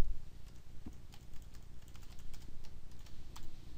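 Typing a username and password on a computer keyboard to connect to a VirtualBox virtual machine, with soft, close, irregular keystrokes tapping in short runs and no speech.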